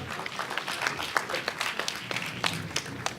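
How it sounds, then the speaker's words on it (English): Attendees at a prison reentry conference panel give a round of applause, a thick, continuous crackle of many hands clapping at moderate volume with no talking over it. "Can we have a round of applause"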